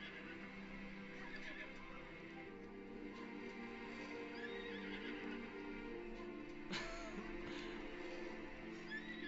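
A horse neighs and whinnies in Red Dead Redemption 2, with a sharp loud whinny near the middle over a steady bed of game ambience and faint hoof clops.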